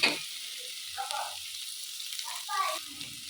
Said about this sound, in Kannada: ಈ ರೀತಿ ಈರುಳ್ಳಿ ಚೆನ್ನಾಗಿ ಫ್ರೈ ಆಗೋ ತನಕ ಹುರ್ಕೊಳ್ಳೋಣ.